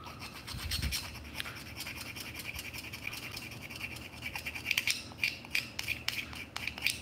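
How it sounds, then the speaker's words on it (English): The excess lip of a plastic shim on an M24 fix is trimmed away: faint, steady scratchy cutting and scraping that turns into sharper, repeated snips toward the end. "So we're getting rid of the majority of the unneeded shim now."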